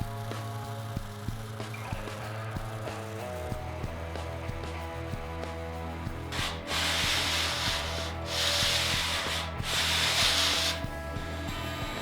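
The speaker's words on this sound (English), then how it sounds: "I left some material that I'm going to need to remove at the belt sander" A belt sander fitted with 120 grit sandpaper grinds walnut wood strips, a steady motor whine overlaid with three loud, hissing bursts of abrasive rubbing as the wood is pressed against the belt.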